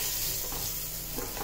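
About 50 grams of butter melting in a wide pan to start a white sauce for Alfredo creamy pasta, giving a steady close hiss and crackle of sizzling with faint stirring.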